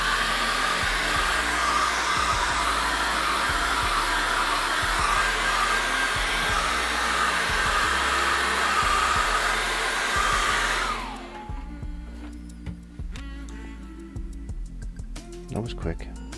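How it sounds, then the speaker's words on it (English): A hairdryer drying paint blows loudly and steadily for about eleven seconds, then cuts off, leaving quiet handling noises and faint clicks. "just dry that with a hairdryer"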